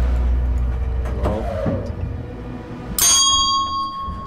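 In the video game Suite 776, a bell strikes once with a bright, sharp ding that rings on over a low rumbling background, loud and close, with no talking.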